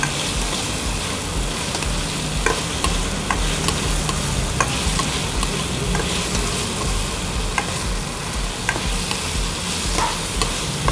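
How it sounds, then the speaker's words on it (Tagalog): Sautéed bottle gourd with shrimps and tomato, stirred without pause in a sizzling pan, with steady frying and repeated spoon scrapes and taps close by, and no voices. "hindi ako tumitigil sa pagkahalo"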